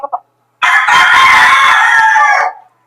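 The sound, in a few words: gamefowl bullstag rooster crowing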